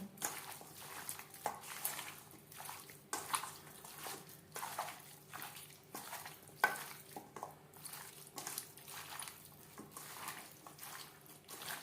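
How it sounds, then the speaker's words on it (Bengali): Raw chicken pieces being worked by hand with curry spices and raw mustard oil in a bowl, giving soft wet squelching and slapping in a steady repeating rhythm, close and moderately quiet, with no talking. "সমস্ত উপকরণ দিয়ে চিকেন বেশ ভালো করে মেখে নেব"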